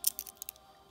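Elastic bracelet cord is snipped, leaving a few quick, crisp, close clicks and snips in a brief burst, then near silence, with no talk.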